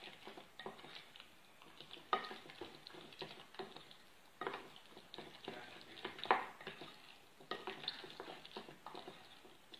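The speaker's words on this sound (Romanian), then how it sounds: "Amestecăm așa bine totul." Food stirred in a pan with a little oil, likely for an eggplant salad, gives irregular scraping and stirring strokes with faint sizzling underneath, moderately close and without talk.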